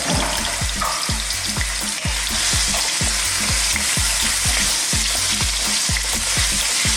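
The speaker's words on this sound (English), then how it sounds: "just gonna fry these around a little bit in this hot oil" Sliced sweet potatoes sizzle and crackle steadily in hot oil in a pan, with a rapid, irregular patter of stirring and frying bursts throughout, close and fairly loud.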